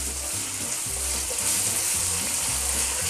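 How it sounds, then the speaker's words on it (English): Onion fries and sautés in a pan, giving a close, steady sizzle with soft, rhythmic stirring scrapes under it and no talk. "Just fry the onion until it becomes translucent. Just saute nicely."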